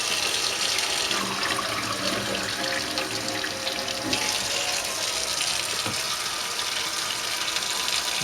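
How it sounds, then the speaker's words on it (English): Cold water gushes from a tap into a container, a continuous, fairly loud splashing hiss that holds steady for several seconds without any speech. "Let's get the water going. Cold water."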